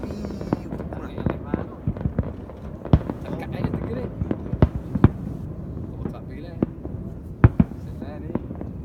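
New Year fireworks fired in rapid succession at a beach, many sharp bursts and crackles scattered across the whole stretch over a dense background of crowd noise.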